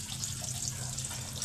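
Water drains out of an Astron single-tub washing machine that had trouble draining, giving a steady close trickle with a low rumble underneath.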